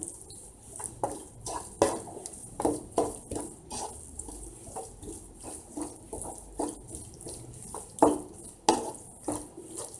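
Prawn biryani masala with fresh coriander and mint leaves is mixed in a pot, giving a rhythmic run of wet, squelching stirs and scrapes repeating roughly every half second, close by with no speech.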